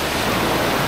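Bira-Bira Falls in Cawag, Subic, Zambales pours with a steady, loud broadband rush of falling water, constant and close throughout.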